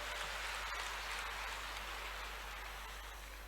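Sustained, steady clapping from a large crowd at a gathering of newly elected village heads, welcoming the Madhya Pradesh chief minister; dense and even throughout, with no talk over it.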